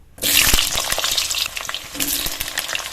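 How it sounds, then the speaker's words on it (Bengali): Pieces of pointed gourd hitting hot mustard oil in a wok-like pan give a sudden loud, steady sizzle that starts sharply and continues with crackles and occasional spoon knocks. "পটলগুলো দিয়ে আগে ভেজে নেব"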